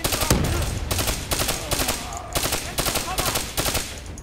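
Enemies fire at the player in the Black Ops 3 campaign. Rapid, loud bursts of automatic gunfire repeat in quick succession, close and dominant.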